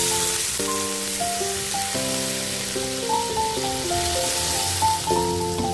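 Water is poured into a hot wok for a curry, giving a steady crackling sizzle under a background melody of sustained musical tones, with no speech.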